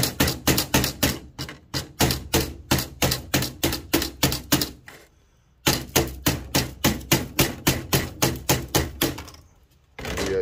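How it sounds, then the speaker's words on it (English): Hammer driving a chisel against an IC chip on a mid- to high-grade circuit board, a rapid run of sharp metallic taps in steady bursts with two brief pauses, close and loud. "take your hammer, chisel."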